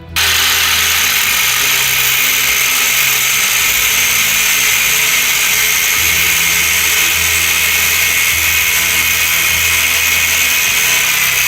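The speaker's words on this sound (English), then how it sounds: "we were using a vice grip and a grinder to grind these bolts down" An angle grinder grinds down flywheel bolts during the engine rebuild of a water-damaged Porsche Macan. It is a loud, continuous, high-pitched whine with a steady motor drone underneath, close up and unbroken throughout.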